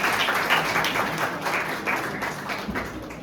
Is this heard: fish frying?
no